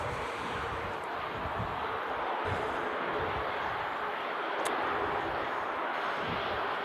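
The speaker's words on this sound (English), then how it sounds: "The Emirates A380 though is featuring the AC Milan special livery" Steady broadband roar of an Emirates Airbus A380 in AC Milan special livery at Manchester Airport, loud and continuous with wind buffeting the microphone and no voices.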